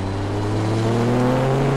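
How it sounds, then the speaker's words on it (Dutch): Donkervoort D8 GTO-JD70 engine revving high, a loud steady drone with harmonics that climb gradually as the revs build, heard alone with no talk. "hoger in zijn toeren, dan komt die motor pas echt, echt los"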